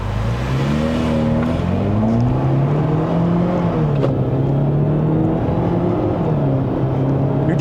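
A GAC GS3 Emzoom 1.5L turbo car accelerates hard in Sport mode, recorded from inside the cabin. A loud, steady engine note climbs in pitch through rising sweeps, with a gear change partway through.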